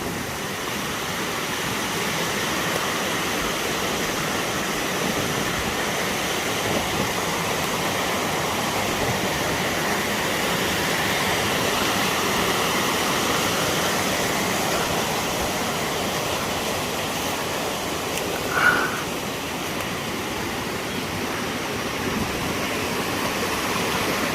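Water rushes steadily at the top of a log flume ride in Massachusetts, a loud, continuous broadband roar that stays even throughout, with one faint brief tone partway through.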